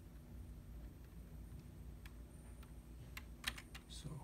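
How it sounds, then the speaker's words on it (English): Keys clack on a computer keyboard, faint at first, then a cluster of sharper, louder taps near the end as the Enter key is pressed. The room is otherwise quiet with low background hum and no talking. "let's press enter in the keyboard."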